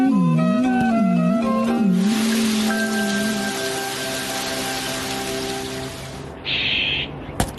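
A Shinchan cartoon scene brings a dense, steady rain hiss in after a wavering musical melody fades, the downpour filling the middle stretch before a brief bright tone near the end.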